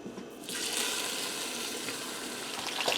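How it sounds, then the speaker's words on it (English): Pork roast searing and browning in olive oil inside a pressure cooker, with a steady close sizzle that comes in after a short quieter start and holds evenly, with faint crackles near the end. "while my pork is searing and browning up"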